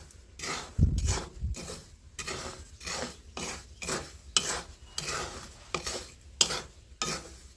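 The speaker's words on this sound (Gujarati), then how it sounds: "ભૂંગળી પણ આપણે આમ હલાવી નાખશું" Thin fried bhungli snack tubes being stirred in a pot while making sevdo produce a regular series of about a dozen scraping, rustling strokes, opening with a heavier thump, close and fairly quiet.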